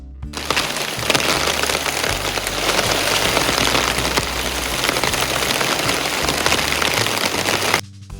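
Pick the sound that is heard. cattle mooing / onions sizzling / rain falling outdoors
rain falling outdoors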